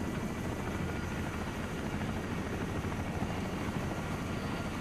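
Helicopter in a video game, a steady, dense rotor-and-engine roar that holds at an even level throughout with no break or change.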